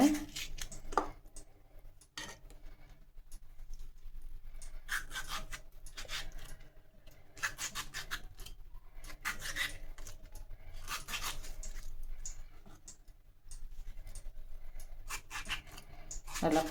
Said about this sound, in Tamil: இந்த வில்லேஜ் மீன் குழம்புக்கு தக்காளி முதல்ல கட் பண்ணிக்கலாம் ஒரு எட்டு பீஸாக போட்டுங்க